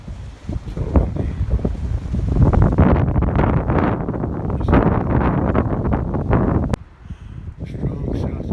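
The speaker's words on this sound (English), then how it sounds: "Oh, that wind blowing in." Strong south wind gusting across an open farm on a stormy day, a loud, steady roar buffeting the microphone for most of the stretch, easing briefly near the end.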